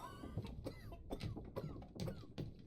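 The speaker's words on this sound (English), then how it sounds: "Coughing." A sailor coughs in the video game Return of the Obra Dinn, with a run of rough, hacking coughs in quick succession at moderate volume.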